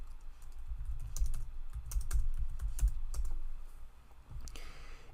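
Quick series of key presses on a calculator keypad while entering numbers, close and fairly loud soft clicks in uneven runs, no talking.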